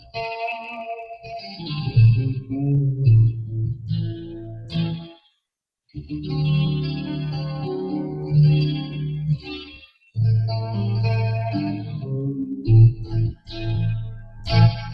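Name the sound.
budget Telecaster-style electric guitar played through clean amp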